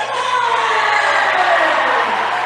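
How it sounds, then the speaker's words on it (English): A large crowd cheering and whooping at a high school boys basketball game on senior night, Fort Morgan at Niwot: a dense, loud, continuous roar of voices filling the gym without break. "They have a nice crowd."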